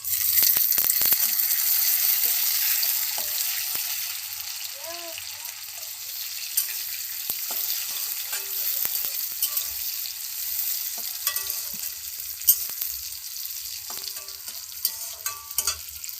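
Tomato going into reddened fried onions in a pan, a loud sizzle that eases into steady frying with the clatter of stirring near the mic.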